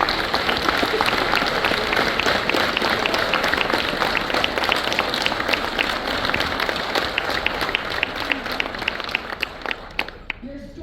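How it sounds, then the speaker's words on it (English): Graduates and guests at a Fresno State EOP graduation ceremony applaud, a long, loud, sustained roll of clapping with sharp individual claps and some crowd voices mixed in, thinning slightly near the end. "please, one more round of applause for yourself."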